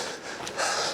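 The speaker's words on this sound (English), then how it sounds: "Sorry for the heavy breathing." A runner breathes heavily after an uphill run on a nature trail, with close, loud, rushing breaths and a stronger gasp near the end.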